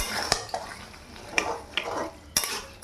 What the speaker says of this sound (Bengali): এবার এটা আর একটু ভালোভাবে কষে নেব